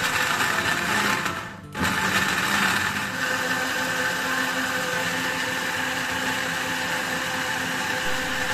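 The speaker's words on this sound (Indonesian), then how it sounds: "kemudian kita haluskan untuk semua bahan, cabai merah, bawang putih, kemudian gula merah" A motorized blender grinding red chili, garlic and palm sugar whirs loudly and steadily, cutting out for a moment before spinning back up into a continuous grinding drone.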